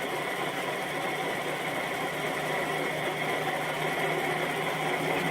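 A homemade dual rotor pulse motor spins fast with its bearings turning, giving a steady, even mechanical hum and whir that holds at a constant level throughout, close by, with no talking.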